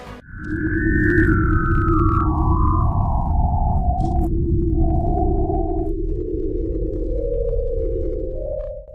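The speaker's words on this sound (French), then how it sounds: "il y a quelques années, un signal a été reçu d'une telle planète, Gliese 581d" An eerie radio signal said to come from the planet Gliese 581d: a sustained electronic tone that steps and glides slowly downward in pitch over a low droning hum, loud and continuous throughout, with no voices.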